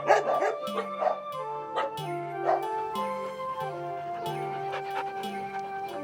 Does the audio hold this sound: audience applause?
no